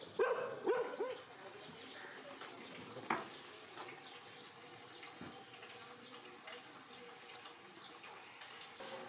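Several dogs bark inside a car workshop, a quick cluster of yaps at the start, then quieter scattered sounds against a faint, distant background.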